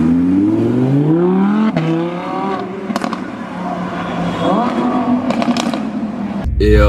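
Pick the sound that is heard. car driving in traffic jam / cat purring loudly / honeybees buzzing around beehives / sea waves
car driving in traffic jam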